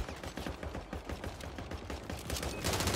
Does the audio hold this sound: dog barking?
no